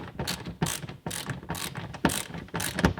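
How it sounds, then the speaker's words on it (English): Phillips screwdriver backing a screw out of the rear window panel on a fifth-generation Toyota 4Runner, a rapid series of close, loud ratcheting clicks in uneven bursts with no talking. "Switch the flathead to a Phillips head again, and then unscrew this as well."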